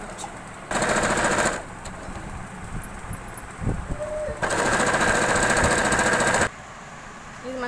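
A sewing machine stitches cloth for a hair band made from old clothes, running in two loud rapid bursts of mechanical chatter separated by quieter handling noises and brief talk.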